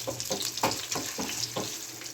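Thin slivers of ginger frying in hot oil, a soft bubbling sizzle that rises and falls in a few quick bursts, close but fairly quiet.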